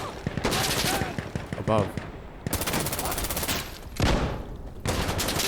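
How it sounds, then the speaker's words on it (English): Gunfire in Insurgency: Sandstorm, with dense bursts of rapid shots coming in several loud volleys separated by brief pauses, and a short spoken word in between. "Someone shooting me here?"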